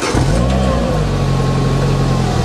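Secma F16 small car's engine running just after start-up, heard close as a loud, steady, buzzy idle with a faint rev at the start, with no talking.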